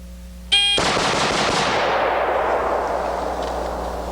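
A single sharp report from a .223 rifle, famous for its light recoil, cracks out loud and close, then trails into a long fading reverberation.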